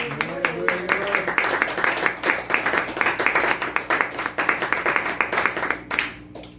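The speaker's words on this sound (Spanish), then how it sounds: "Den una ofrenda de palmas al Señor." A church congregation claps in a steady, rhythmic burst lasting several seconds, moderately loud and fairly close, with the clapping fading out near the end.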